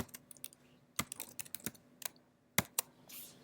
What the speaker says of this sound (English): That took a lot more typing